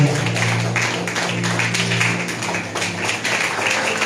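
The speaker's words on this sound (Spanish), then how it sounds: "Dele fuerte ese aplauso." A church congregation claps in steady, dense applause, continuous and fairly loud, with a low hum underneath.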